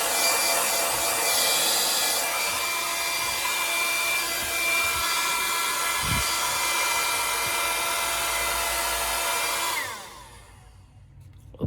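A rechargeable hair dryer blowing with a steady, loud airy roar and fan whine, holding for about ten seconds before winding down and cutting off.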